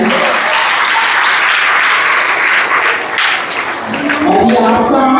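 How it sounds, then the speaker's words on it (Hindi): Loud, sustained applause from a crowd at a Republic Day school program, cheering on children, with a few voices rising near the end as the clapping carries on. "इन बच्चों के लिए एक बार तो और ताली बनती है"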